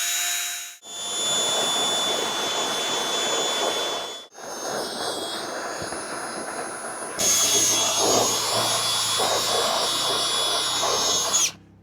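Power tool fitted with a wire wheel scraping an animal hide in a bushcraft hide-preparation setting, a loud continuous whirring grind with two brief pauses and a harsher, brighter stretch near the end, no talk.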